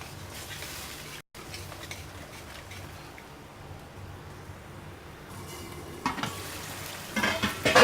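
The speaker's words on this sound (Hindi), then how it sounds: "इसको टमाटर को अच्छी तरह भून लेंगे ताकि इसका कच्चापन ख़त्म हो जाए।" Tomatoes fry in a pan for fish curry, a steady close sizzle with a spoon scraping and stirring through it, growing busier with clinks toward the end.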